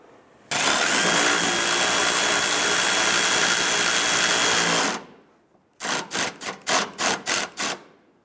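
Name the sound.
power tool tightening bumper bolts on a Chrysler 300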